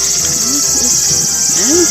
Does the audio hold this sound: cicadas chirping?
yes